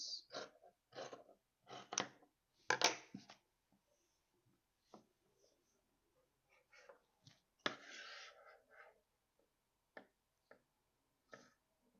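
Scissors cut through skirt fabric in short bursts of close, crisp snipping and rustling, separated by quiet gaps, with a louder run of cuts near the middle.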